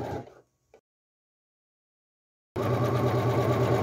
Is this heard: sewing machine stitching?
yes